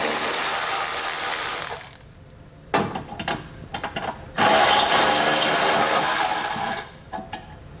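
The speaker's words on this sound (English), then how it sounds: "we'll take those out using a 12mm socket" Socket wrench with a 12mm socket ratcheting bolts out of a car's bumper beam during a Curt trailer hitch install, loud bursts of dense mechanical clatter separated by short pauses.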